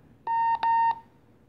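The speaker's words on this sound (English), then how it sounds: "So I don't like having the beep on." Three short electronic key beeps from a Puxing PX-888K radio in quick succession, clear and close against a quiet background.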